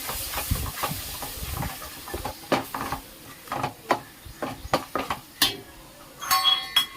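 A spoon stirs tomato-based ayila fish curry in a cooking pot, giving quiet, irregular scrapes and light metallic clinks against a faint background hiss.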